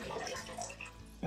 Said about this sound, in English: So in goes my first gallon of water.